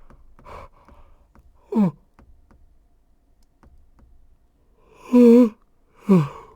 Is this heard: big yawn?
yes